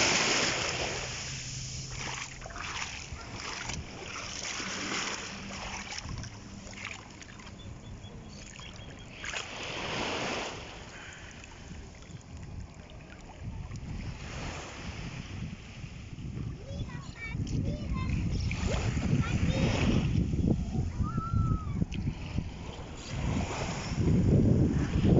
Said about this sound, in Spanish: La bella hermosura del mar.